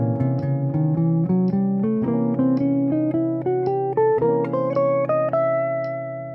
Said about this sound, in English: this lick is based on the diminished scale, which sounds like this.